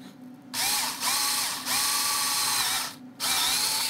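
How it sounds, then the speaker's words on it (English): Power drill boring holes for an axle while building a model Edge 540 aircraft, running in three or four loud whirring bursts with brief pauses between them and no talking. "let's see if I can manage to drill these holes without screwing it up"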